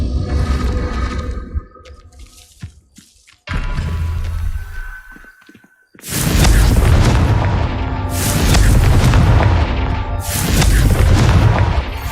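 Confringo spell blasts in Hogwarts Legacy, heavy booming explosions with deep rumbling tails, loud and close, two main impacts followed by a sustained roaring aftermath.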